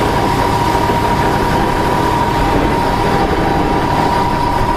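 A fire engine's pump runs steadily at idle, a loud continuous mechanical drone with a constant hum and low rumble, unchanging throughout with no talking.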